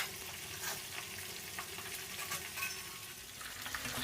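Battered fish with roe deep-fries in hot oil, giving a steady dense crackling sizzle with occasional louder pops, close and continuous without speech.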